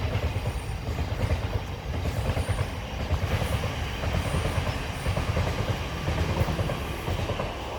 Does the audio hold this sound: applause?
no